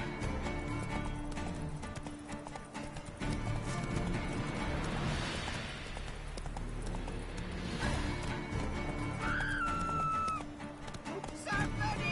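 Roach the horse gallops in The Witcher 3, with quick steady hoofbeats running through the whole stretch over game ambience, a whinny near the end, and voices speaking at times.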